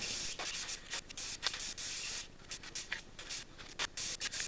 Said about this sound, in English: We'll start with a nice coat of primer, then we'll come in with the gold color coat